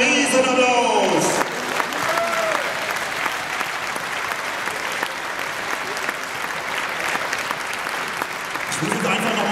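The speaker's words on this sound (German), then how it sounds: "allen hier unten noch einmal einen riesen Applaus" A large stadium crowd at a football club festival in Kaiserslautern breaks into loud, sustained applause after a voice over the speakers stops, the clapping filling the space with a distant roar before speech resumes.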